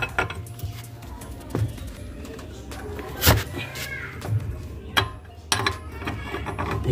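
A wrench loosens the wheel nuts on a car raised on a jack, giving scattered metallic clanks and ratchet-like clicks at irregular intervals, some louder knocks standing out.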